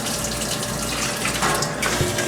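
Tap water runs steadily into a beer keg during keg cleaning, a continuous close-up gushing and splashing with no pauses and no talking.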